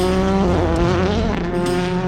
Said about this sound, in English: This is the first major endurance test for the all-new Rallycross cars.